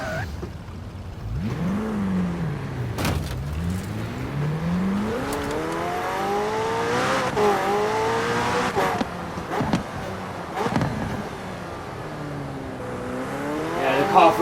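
McLaren 600LT driving in Forza Horizon 4, engine revving up and down through repeated rising pitch sweeps with gear changes, steady and close with brief clicks and knocks.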